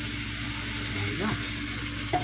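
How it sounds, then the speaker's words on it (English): Beef broth and cornstarch gravy stirred in a hot pan, a soft sizzle and frying hiss running throughout with a few scraping strokes of the utensil, close and quiet, no voices. "Stir this together and it should thicken up as it heats up."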